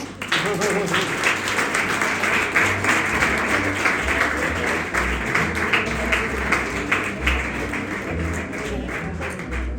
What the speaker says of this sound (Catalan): Un aplaudiment per elles, no?